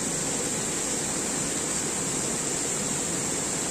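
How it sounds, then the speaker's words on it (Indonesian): Swift river current rushing nearby, a steady broadband roar of water that fills the whole stretch without a break, loud and constant with no voices. "saya terdengar sangat kecil sekali karena ada aliran sungai deras"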